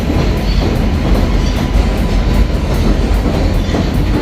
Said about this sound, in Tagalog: ingay ng tren